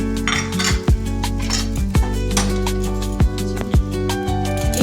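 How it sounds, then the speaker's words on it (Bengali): A metal spoon stirring turmeric into moong dal in a pot, the spoon clinking sharply against the pot rim about five times at a steady rhythm over a soft scraping stir, close and fairly loud. "1 চামচ হলুদ গুঁড়ো দিয়ে ভালো করে নাড়তে হবে।"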